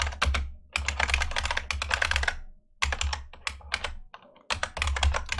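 Code is being typed on a computer keyboard in quick clattering bursts of keystrokes, broken by short pauses, close and clear with no talk.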